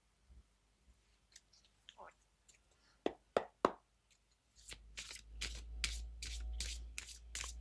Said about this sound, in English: let's shuffle the cards and match them with the crystals